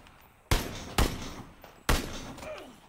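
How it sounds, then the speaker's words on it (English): Three sharp, close gunshots in PUBG, spaced irregularly over a few seconds, each with a quick echoing decay against low background noise. "There's a boy shooting at me behind me."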